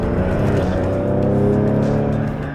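A 2020 Ford Explorer ST with full bolt-ons accelerates hard, its engine note climbing in a loud, close, sustained roar for a few seconds with no talk over it.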